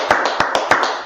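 Clapping for the Lord at a church gathering on reconciliation, with about six sharp, fairly evenly spaced claps over a steady crowd background, close and moderately loud with no speech.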